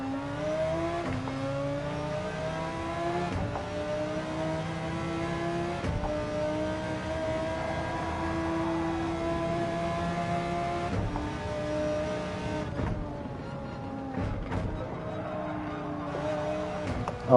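Engine of a car in Gran Turismo driving on the Nürburgring Nordschleife, a steady droning whine that rises and falls through gear changes, with a few brief dips and a quieter patch toward the end.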